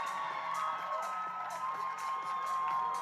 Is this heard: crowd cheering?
yes